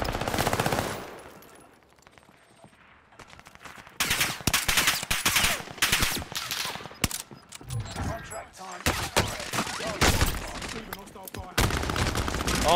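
Dense automatic and burst gunfire from a Call of Duty: Modern Warfare match, loud and sustained with rapid volleys and a brief lull, with voices talking over the shooting.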